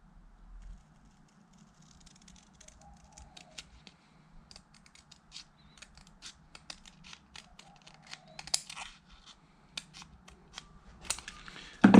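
Someone cuts out a piece along a pencil line for a wrist rest, making a long run of small, irregular snipping and scraping clicks, close and fairly quiet, ending in a louder rustle.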